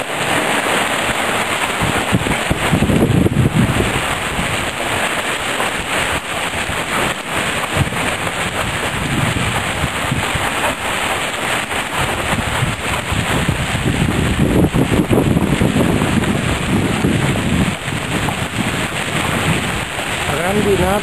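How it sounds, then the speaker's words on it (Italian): Dry hail without rain hammers down on a street in Scorzè during a July storm, a dense, continuous roar of hailstones on pavement and cars that surges briefly and persists throughout, with wind buffeting the microphone. "Grandinata"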